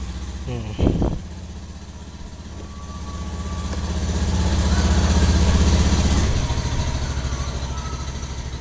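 A motorcycle engine running on cooking oil as engine oil idles smoothly and steadily, its low even putter swelling slightly in the middle after a brief knock near the start.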